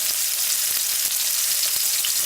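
Diced onion frying in a pan hisses with a bright, crackling sizzle, loud and close, with small pops scattered through a constant frying texture.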